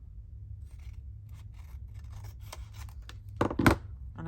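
Scissors trim paper ephemera up close, a run of soft, quick snips building to two louder, crisp cuts near the end, with no talking.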